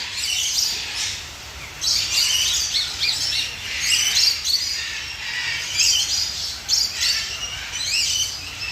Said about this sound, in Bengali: বৃষ্টি আসতে এই পাখিগুলো আরও চিৎকার শুরু করে দিয়েছে